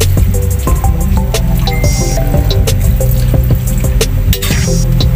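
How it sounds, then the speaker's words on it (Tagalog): Pork belly broth splashes and pours steadily into a pot amid clinking and bubbling kitchen noise, close and fairly loud. "maglagay po tayo ng sabaw"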